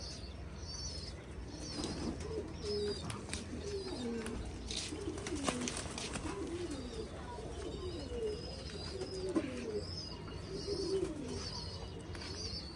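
Pigeons coo repeatedly in a rooftop loft, soft rolling calls recurring every second or so close by, with occasional wing flaps and faint background bird chirps.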